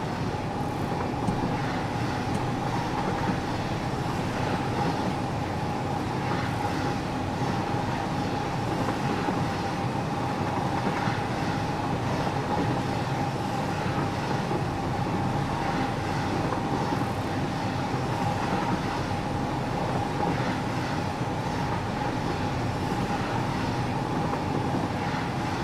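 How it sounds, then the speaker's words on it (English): A train rolls past in the video game Ficsmas with a long, continuous rumble and hum of wheels and machinery at moderate volume, steady throughout and without voices. "I like the train."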